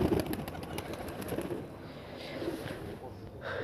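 Pigeons cooing and fluttering nearby amid a busy, noisy background, with soft bird calls repeating throughout.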